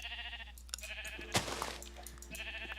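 Sheep in a video game bleat in a couple of short wavering cries, quiet and close, with no talking.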